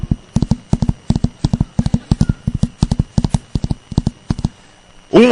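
A horse's hooves clip-clop in a fast, steady galloping rhythm, loud and close, for about five seconds before a brief whinny-like cry at the end.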